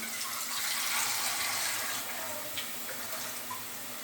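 Water poured from a bowl into a pot of rice, a steady splashing trickle that runs continuously at close range with no talking.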